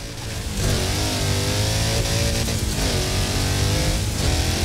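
A car engine in the video game Forza Horizon 4 accelerates steadily and loudly, its revving tone climbing in pitch as the vehicle gains speed, with no talking over it.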